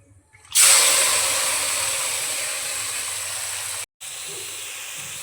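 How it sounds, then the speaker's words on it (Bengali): Prawns hit hot mustard oil in a wok with a loud, sudden sizzle that settles into a steady hiss, cuts out briefly, then resumes just as steadily. "প্রথমে কড়াইয়ে সামান্য সর্ষের তেল দিয়ে চিংড়ি মাছগুলোকে হালকা করে ভেজে নেব।"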